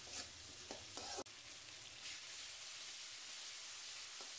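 Spice paste with salt and turmeric frying in oil for a shrimp curry gives a soft, steady sizzle with a few brief stirring scrapes early on, close but quiet.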